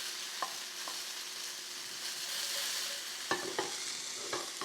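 Browning mushrooms frying in a hot pan while being stirred and pushed around, a soft steady sizzle broken by a few scraping knocks of the utensil, loudest toward the end.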